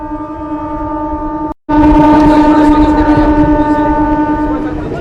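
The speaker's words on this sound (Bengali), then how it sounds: "এগিয়ে চলেছে ট্রেন" An inaugural passenger train pulling away from Jairambati station toward Bishnupur, with a loud sustained horn-like tone and rumbling rail noise. The sound breaks off briefly, then resumes louder with a busy crowd atmosphere.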